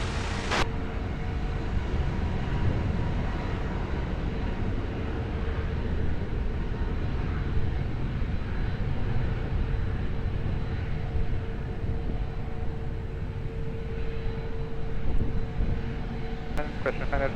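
At Lisbon Airport, a jet's roar rumbles steadily from some distance as it heads down the runway for takeoff, a broad low drone under intermittent radio chatter from the tower.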